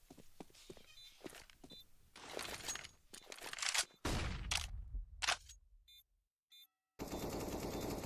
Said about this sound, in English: I think Perfecto's going to get 2 sets of footsteps heard by him